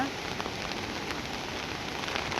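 Heavy rain driven by strong wind falls outdoors in a steady, dense, unbroken wash of hiss and patter that stays loud and even throughout, with no voices.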